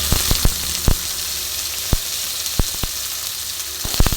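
Thinly sliced pumpkin goes into hot oil over lowered gas heat, giving a steady close sizzle broken by sharp clicks of stirring, with no talk.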